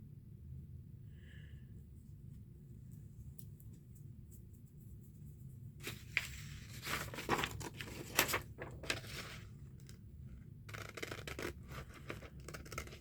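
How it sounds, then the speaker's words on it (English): Scissors snipping paper while a decorative journal is assembled, a few close crisp cuts and rustles arriving in clusters after a quiet start, over a steady low room hum. "Look at these scissors"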